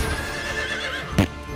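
A horse neighs in a video game with knights, a bright whinny rising over soft clip-clop hoof steps and game ambience, near and loud, standing alone without talk.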